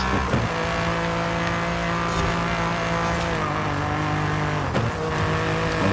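A Cadillac race car in Forza Horizon 5 roars at high revs, a loud steady engine drone with gear-shift dips and brief tire squeals, no talking.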